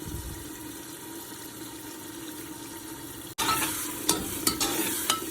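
Peppers, tomato and tomato paste are stirred in a sizzling pan. After a quiet stretch of low frying hiss, the sound turns louder and closer, with spoon scrapes and bursts of sizzle. No one talks.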